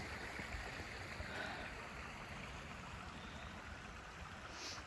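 A creek flows below an abandoned camp in Pine Grove Furnace State Park, Pennsylvania, giving a continuous broad rushing and gurgling wash of water, fairly distant and steady, with no talking.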